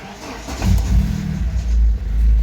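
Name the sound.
car engine starting and revving to warm up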